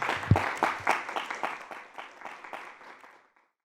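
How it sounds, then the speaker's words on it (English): An audience applauds both candidates at a student government presidential debate, steady clapping that starts strong and gradually thins out before dying away into silence. "Can we get a round of applause for both our candidates?"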